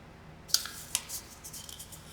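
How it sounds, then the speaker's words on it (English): Scissors cut through the fold of a thank-you card, two sharp close snips followed by softer trailing cuts in a quiet room. "we're going to trim that fold off"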